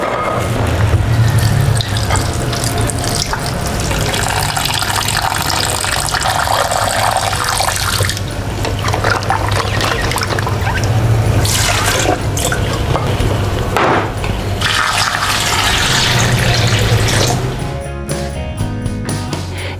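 Soaked jengkol beans are rinsed under running tap water, a loud, steady splashing rush into a basin with shifting gurgles as the beans are handled, the flow easing near the end.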